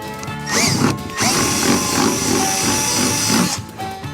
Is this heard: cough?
no